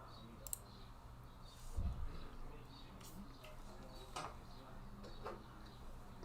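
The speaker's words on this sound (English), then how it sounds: "So as you can see here, I'm typing" Typing on a computer keyboard heard up close and faint, scattered light clicks and taps at an irregular pace with a soft thump midway and no talk.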